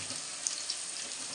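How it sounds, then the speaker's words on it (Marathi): Chopped onion frying in hot oil in a kadhai, a steady, even hiss of sizzling with faint crackles, heard close and continuous with no speech. "आता तेल गरम झालेलं आहे आणि ह्याच्यामध्ये कांदा टाकलेला आहे आता।"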